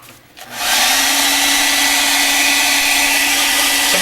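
A hair dryer drying acrylic paint on a miniature viper switches on after a brief quiet moment and then blows loud and steady at close range for several seconds.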